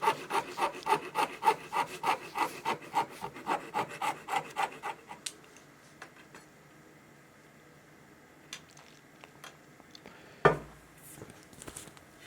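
A handsaw cuts a scribe into a wooden skirting board on a wobbly old table, about a dozen rhythmic rasping strokes followed by quiet and a single sharp knock near the end.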